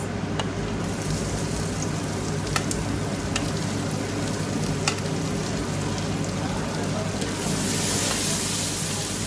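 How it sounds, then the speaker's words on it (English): Onions hitting a pan of ghee and butter already cooking garlic and ginger for dhaba-style dal tadka, giving a steady, close, dense sizzle with a few sharp clicks that swells louder near the end, with no talk. "now I'm going to add in the onions"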